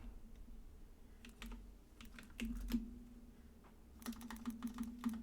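Slow, uneven typing on a computer keyboard, keys tapped in short irregular bursts with pauses between, close and fairly quiet over a low steady hum.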